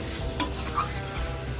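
Vegetables fry in a pan with a steady, close sizzle, while a utensil stirs them in a few short scraping strokes, with no talk.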